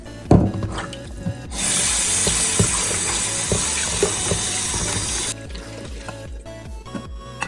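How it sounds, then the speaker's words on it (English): Oxtail meat washed with water and vinegar, with a tap running in a steady rush for a few seconds, amid lighter splashing and handling before and after, under background music. "Let's wash the meat. I will be using some vinegar."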